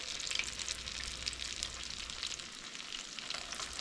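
Leftover Thanksgiving egg rolls fry in a pan, four at a time, with a constant bright sizzle and crackle heard close up and no one speaking.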